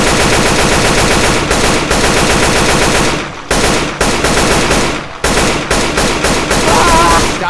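Rapid automatic gunfire from the Left 4 Dead 2 video game, loud and sustained, with dense overlapping bursts broken by a few brief pauses near the middle.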